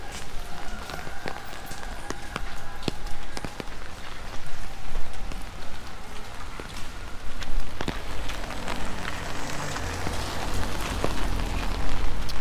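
Rain falling steadily in bad weather, a dense, constant patter and hiss close by with scattered sharper drips and splashes and no speech.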